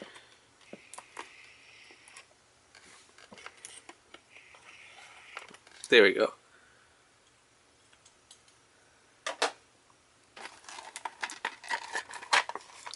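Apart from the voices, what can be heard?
cutting open plastic toy packaging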